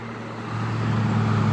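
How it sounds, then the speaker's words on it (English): Steady traffic rumble from a nearby highway, a continuous low drone that swells slightly and stays constant throughout, with no speech. "I don't know what the traffic is doing, if it's too loud or what, but I live next to the highway"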